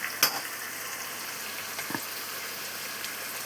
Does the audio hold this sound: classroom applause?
no